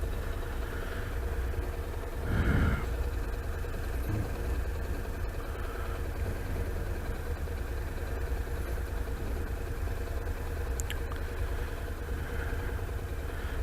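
A Honda NC700X motorcycle engine runs at a steady idle with a constant low rumble throughout. It is close and fairly loud, with one brief louder swell near the start.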